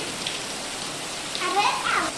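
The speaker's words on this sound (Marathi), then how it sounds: "रात्रीचे साडे दहा वाजता पाऊस आलाय जोरात भरपूर वारा येते" Steady heavy rain with wind at night, hissing evenly, with a slight swell toward the end that may be a gust.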